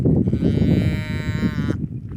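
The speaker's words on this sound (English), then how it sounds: "Hey, cows." A cow gives one long, loud, drawn-out moo close by in an outdoor camping area in Colorado, over low rumbling background noise.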